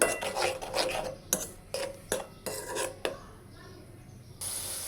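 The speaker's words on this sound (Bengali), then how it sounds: "সব কিছু দিয়ে ভালোভাবে কষিয়ে নেব।" Fish curry spices being sautéed with garlic-ginger paste and salt, a spatula scraping and stirring in a pan in uneven strokes over a low steady sizzle, close and fairly quiet.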